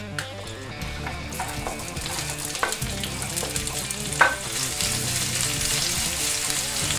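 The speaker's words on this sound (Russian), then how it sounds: "Лук режем полукольцами. И отправляем жарить в сковородку." Onions cut into half-rings fry in sunflower oil in a pan, the same oil used earlier for fish. A steady, loud sizzle carries throughout, broken by occasional sharp pops and scraping stirs.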